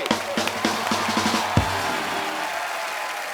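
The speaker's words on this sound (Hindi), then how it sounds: "एक बार जोरदार तालियां हो जाए" Studio audience clapping and cheering on a comedy talk show after a few sharp hits, the applause settling into a steady wash of noise.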